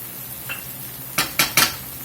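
Onions in leftover bacon fat in a pan, three sharp bursts of crackling pop and sizzle close by after a faint earlier tick, over a low steady background hiss.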